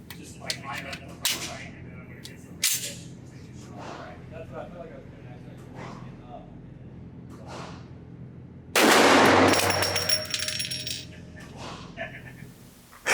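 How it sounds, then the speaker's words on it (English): An AMT AutoMag V .50 AE pistol fired at a 7-yard range, a handful of sharp separate cracks followed by one very loud blast, with someone talking quietly between shots. "let's go back to the range, still at 7 yards, and put another magazine through this."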